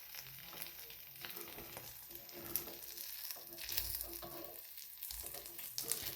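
An omelette topped with chilli and coriander fries in a pan, giving a steady, fairly quiet sizzle with a few soft scraping and rustling bursts as it is turned over, with no voices.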